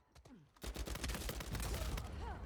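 Gunfire erupts in Uncharted combat: after a quiet start with a few voices, rapid automatic shots crack loudly and continuously, with spoken lines mixed in near the end.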